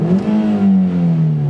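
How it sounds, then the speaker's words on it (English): A car engine revs hard and fast during a fuel injector setup for an LPG conversion, a loud close roar that climbs and then holds steady with no voices over it. "We do this by revving the car very hard and very quickly"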